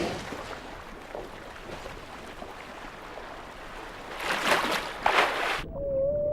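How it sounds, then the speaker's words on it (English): Whale sonar calls carry underwater as broad, surging pulses over a rushing marine backdrop, with two loud swelling bursts near the end followed by a thin sustained tone. "Sometimes whales use their own sonar, making sounds which can travel many miles, bouncing back from underwater mountains."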